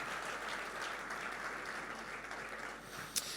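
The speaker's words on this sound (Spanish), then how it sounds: "Fuerte ese aplauso de alabanza al Señor." A church congregation applauds in praise, a steady dense wash of clapping filling the room for a few seconds, with one sharper clap standing out near the end.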